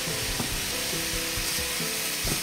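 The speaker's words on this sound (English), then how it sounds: "As you can hear, our frying pan is really hot." Chicken, onion and garlic sizzle and fry in a very hot pan, a steady broadband hiss with intermittent stirring knocks and scrapes, close and alone with no talk.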